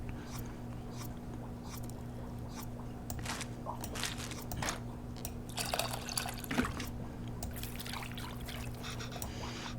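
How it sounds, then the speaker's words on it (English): Tamarind is stirred into water in a bowl in the cooking game Venba, producing soft splashy sloshing and dripping over a low steady hum. "It looks like I have to mix the tamarind with the water to extract its essence multiple times"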